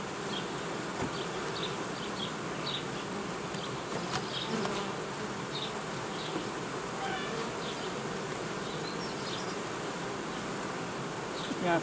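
Dense, steady buzzing of many honeybees around hive frames in an apiary nucleus colony, close and continuous with individual bees droning past now and then.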